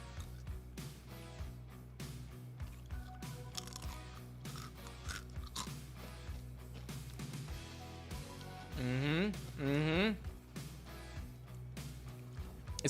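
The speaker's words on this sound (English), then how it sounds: "Let me take out the filter so you guys hear all the crunch" Crunchy flavored chicken skin being bitten and chewed close to the mic, a steady run of sharp crackling crunches with talk and background music mixed in.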